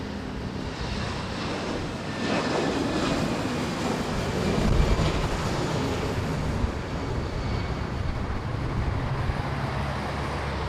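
An airliner taking off at Manila Airport, a broad distant engine roar that swells in the middle and then holds as a steady rumble, with no talking.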